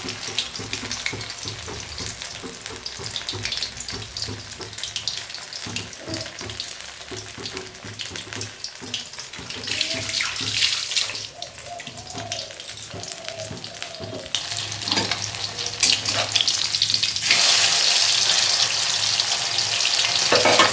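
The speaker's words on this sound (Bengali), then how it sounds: "এই যে হয়ে গেছে মাছের তেলের বড়া ভাজা" Fish-oil fritters fry in hot oil, a steady crackling sizzle running for about twenty seconds with occasional stirring clinks and scrapes, growing louder and brighter toward the end.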